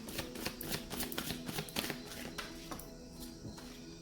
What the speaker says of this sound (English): So 2 more shuffles from July 22nd to the 25th for Aries and their person.